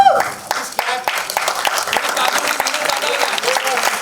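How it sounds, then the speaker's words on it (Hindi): Audience applause and clapping fill a hall at the launch of a debut music album, loud and steady throughout, with voices mixed in over the crowd. "तालियां।"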